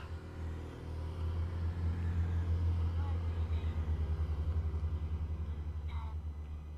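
A car passes on a road near a rural hillside poppy field in Minano, Saitama, a steady low engine rumble swelling and holding close under wind and someone talking.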